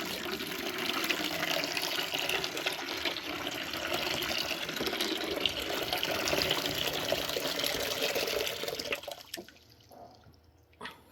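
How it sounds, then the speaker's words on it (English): Hot water runs steadily from a tap in a continuous gushing stream, then shuts off near the end, leaving quiet. "Nice hot water just to dissolve it."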